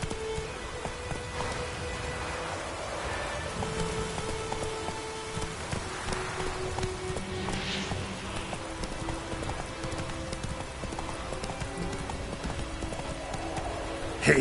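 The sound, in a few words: horse Roach galloping in The Witcher 3 video game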